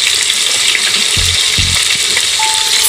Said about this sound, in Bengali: এখানে দেখো মাছ ভাজা হচ্ছে